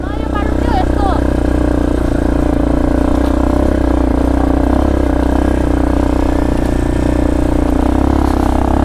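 A motorbike engine strains as the bike climbs a rough hill road toward a village, rear tyre spinning. The engine holds a loud, steady drone throughout, close to the listener, with faint voices underneath.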